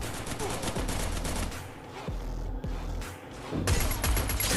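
Game gunfire fills a duo ranked match in a shooter video game, with dense bursts of rapid shots, a brief lull in the middle, then another loud volley.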